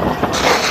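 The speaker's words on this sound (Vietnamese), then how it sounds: "Đứng ở trên này gió rất là to mà." Strong wind gusting across the top of a tall tower, a steady broadband rush of loud, close buffeting against the microphone with no voices.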